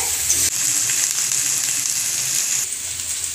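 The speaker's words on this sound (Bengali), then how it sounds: "আর একটু ভাজবো, ভেজে নিয়ে এর মধ্যে ওই জলে ভেজানো চালটা দিয়ে দেব।" Food fries in oil in a pan with a loud, continuous close-up sizzle and crackle that holds steady throughout.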